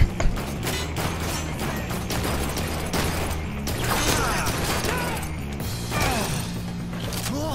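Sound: gunshots in Blue Estate video game

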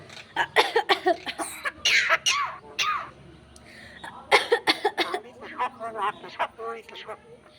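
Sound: parrot imitating a cough

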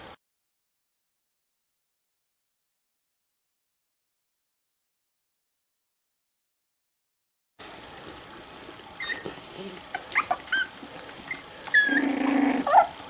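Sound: puppies growling

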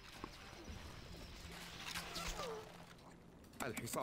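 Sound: horse archers' hooves in video game Stronghold Crusader

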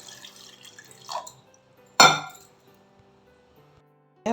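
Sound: water being added to gooseberry juice mixture

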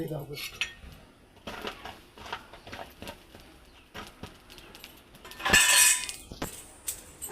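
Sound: biryani pot being set on charcoal stove

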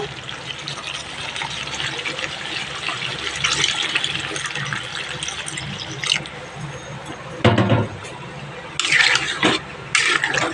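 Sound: water being poured into cooking mutton

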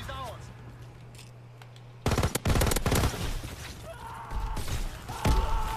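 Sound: incendiary shells gunfire from video game Call of Duty WW2

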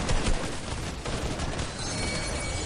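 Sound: gunfire while shooting in Fortnite video game

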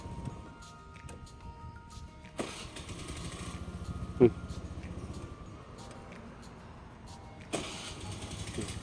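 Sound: used car engine starting easily

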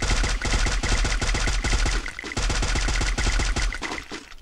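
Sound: gunfire in Free Fire video game

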